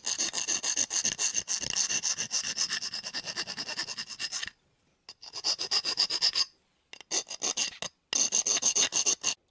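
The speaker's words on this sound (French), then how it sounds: "Alors j'arrange bien mes coupes à la lime." Hand file rasping back and forth over cut metal edges on front bodywork parts, a steady close scraping stroke pattern with several short pauses, no talking.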